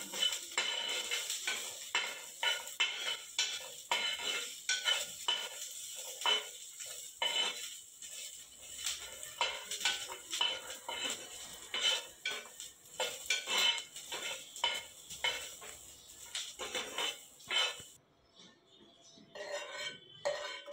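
Garlic cloves being stirred and sautéed in a pan for chicken biryani, with steady metal utensil scraping and clinking against the pan throughout, close and busy, ending in a quieter stretch.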